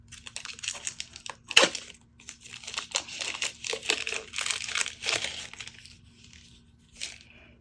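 Plastic wrapping around a rubber stamp crinkles and crackles in close, irregular bursts, loud then tapering off with brief pauses between handling.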